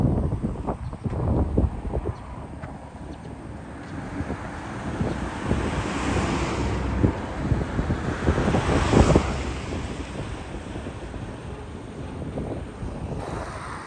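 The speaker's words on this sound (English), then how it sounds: "Sorry about the wind, too windy." Steady wind buffets the microphone throughout a fall lawn cleanup, a broad roaring rush that swells and gusts louder midway, with a faint low drone in the background.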